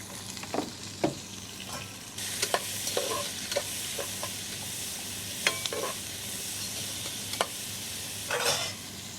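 Onion sizzles and fries in a pan for butter chicken, with a steady hiss under scattered clicks and scrapes of a stirring utensil, close by and without speech.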